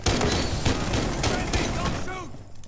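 Shotgun blasts and gunfire in the tactical shooter game Rainbow Six Siege, a dense run of loud booming shots across the whole stretch, with players' voices talking over the action.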